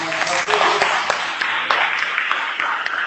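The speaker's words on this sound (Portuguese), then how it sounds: "Aplauda o Senhor Jesus." A church congregation applauds during a worship service, dense and loud clapping with some voices mixed in, sustained throughout.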